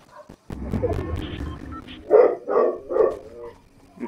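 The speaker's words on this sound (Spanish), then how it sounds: "Ves que estoy en stream o no sé, estoy hablando acá, mi perro ladra, ladra, ladra." A pet dog indoors barks three times in quick succession, sharp and close, after a few seconds of rustling, muffled background noise.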